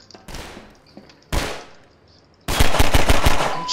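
Soldiers fire at the player in Half-Life 2: two single loud gunshots with decaying tails, then a rapid burst of automatic fire close by.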